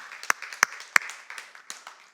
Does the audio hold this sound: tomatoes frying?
no